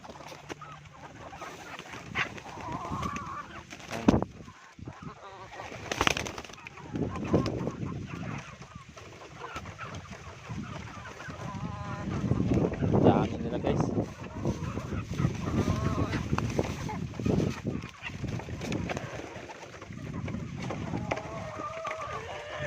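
Chickens cluck and squawk amid a busy outdoor mix of voices and noise, moderately close, continuing throughout, alongside pigeons and tikling birds.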